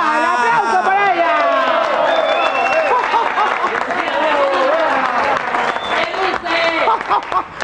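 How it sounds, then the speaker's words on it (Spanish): A crowd applauds and cheers with overlapping voices and shouts, lively and close, clapping blended into a busy roar. "¡Un aplauso para ella!"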